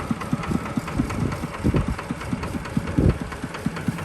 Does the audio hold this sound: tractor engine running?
yes